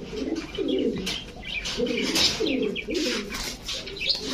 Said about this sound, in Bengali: দেখেন খুবই সুন্দর কবুতরগুলো